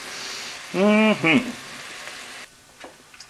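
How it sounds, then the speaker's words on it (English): Bacon frying in a cast iron pan gives a soft, even crackling hiss under a brief spoken phrase, then the sizzle drops quieter with a few faint pops. "cooking a little bacon in the cast iron doesn't hurt it any"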